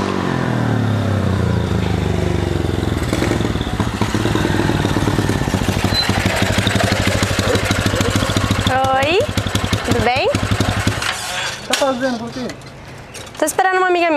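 A motorcycle engine idles loudly and steadily up close, its rumble holding under a few revving or squealing bursts near the end.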